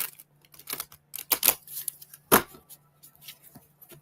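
Oracle cards are shuffled by hand in a short run of soft, quiet riffling and slapping bursts with irregular gaps and no talking.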